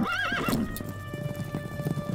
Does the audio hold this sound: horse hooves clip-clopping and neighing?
yes